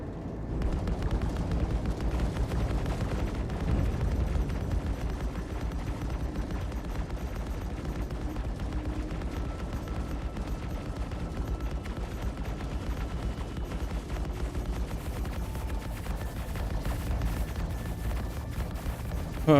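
Gunfire aimed at a spaceship in the space-combat game Star Citizen keeps up a dense, rapid rattle of shots for the whole stretch, steady and fairly loud, with no talking.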